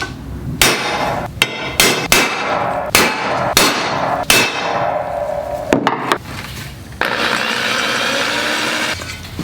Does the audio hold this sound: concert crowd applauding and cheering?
no